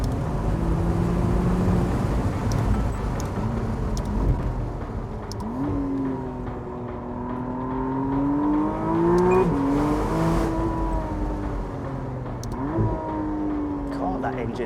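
A McLaren Artura Spider's engine revs up and down through several rising and falling sweeps while driving, loud and close inside the car. Tagged speech suggests a voice may be present, though no words were transcribed.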